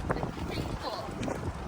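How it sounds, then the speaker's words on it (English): Strong, cold wind blowing outdoors on a winter day, buffeting the microphone with a rough, rumbling roar throughout the short stretch, while a person talks faintly beneath it. "Feel that wind, it just hurts."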